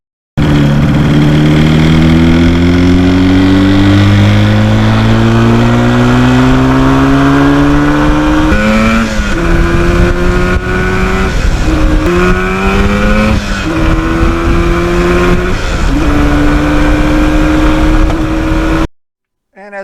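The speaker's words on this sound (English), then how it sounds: "enjoy the smell of the two-stroke oil and the sound of that engine going through the gear" A 1977 Yamaha RD400 two-stroke motorcycle engine revs loudly and up close, its pitch climbing steadily and then dropping sharply at each of several gear changes, in a continuous run through the gears.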